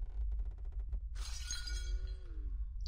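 Glass shatters loudly inside a horror video game, a sharp crash with scattering tinkles over a low rumbling ambience, preceded by a brief rapid rattling.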